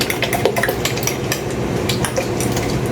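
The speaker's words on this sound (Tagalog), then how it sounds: "haluin ko siya ulit" Beaten egg mixture for an omelette whisked with a utensil in a bowl, rapid steady clinking and scraping strokes, loud and close, with no voices.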